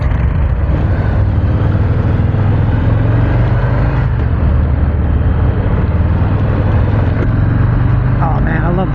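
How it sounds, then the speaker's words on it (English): Harley-Davidson Fat Boy Softail motorcycle engine rumbling steadily at close range, a deep, continuous low drone with little change in pitch. "The sound of that engine."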